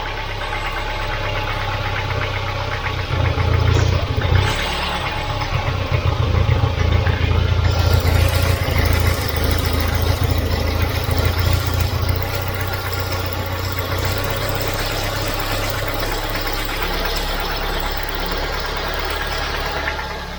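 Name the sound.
Volvo 940 Turbo engine idling and hunting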